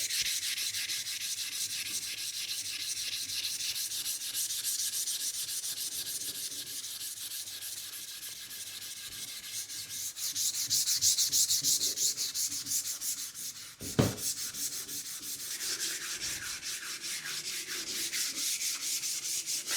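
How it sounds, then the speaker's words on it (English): An old axe's wooden handle being hand-sanded with strips of 220 grit sandpaper, giving a steady, close, rasping back-and-forth rub throughout, broken once by a single sharp knock partway through, with no voices. "we're going to sand this handle down"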